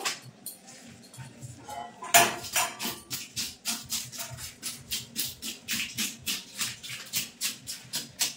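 Scales being scraped off a rohu fish with a knife, starting with soft scattered strokes and then settling into steady, evenly spaced rasping scrapes, close and fairly loud with no talking.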